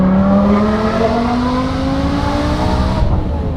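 Modified BMW M5 Touring with a V10 engine revving hard, its pitch climbing steadily as the revs build, loud and close throughout with no voices over it.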